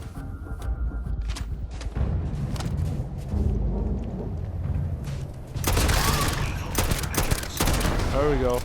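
Heavy gunfire in the video game Starfield modded with Star Wars content, continuous rapid bursts with booming impacts and mechanical clanks, loud and close, with a voice talking intermittently over the shooting.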